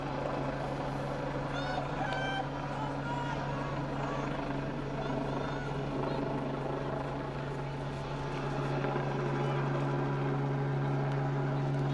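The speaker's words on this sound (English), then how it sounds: "blessed with the appearance of the air ambulance in the distance, so if you just all you could hear was the helicopter for a couple of minutes" Air ambulance helicopter droning steadily in the distance over a women's Premier Division hockey match between Beeston and East Grinstead, a constant low rotor hum lasting throughout with faint crowd and field sounds around it.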